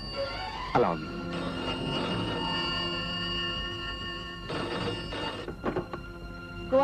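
A telephone rings in a Hindi action film scene, two long bursts of loud electronic-bell trilling separated by a short pause, with brief sounds between rings.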